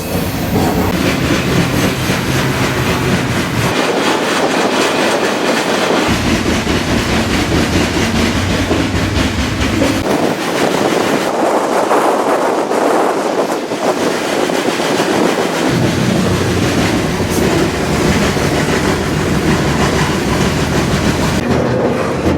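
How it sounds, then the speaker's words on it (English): A freight grain train rolls steadily along the rails at close range, a loud continuous rumble with clickety-clack and wind buffeting, and no talking. "the train, well, another stack just pulled up next to the train, the grain train I was on"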